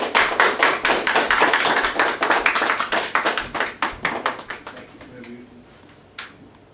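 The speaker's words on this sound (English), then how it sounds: "give him a great round of applause" A small audience at a lecture claps in sparse, individually distinct hand claps that gradually thin out and fade, with a last isolated clap near the end and faint talk underneath.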